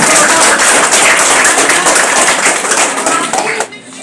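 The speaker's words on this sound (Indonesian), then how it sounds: "Ya, kita kasih aplaus dulu." A crowd applauds at the inauguration of a Jokowi volunteer and PSI party house, loud, dense clapping that runs steadily before tapering off near the end.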